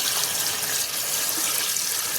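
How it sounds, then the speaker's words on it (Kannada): A steady, dense rush of running water pours continuously, close and fairly loud, with no voices. "ಇವಾಗ ಒಂದು ಪಾತ್ರೆ ಇಟ್ಟು ನೀರು ಹಾಕಿ ಚೆನ್ನಾಗಿ ಬೇಯಿಸ್ಕೊಳ್ತೀನಿ."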